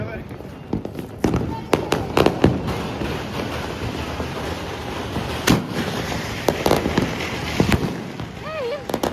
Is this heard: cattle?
no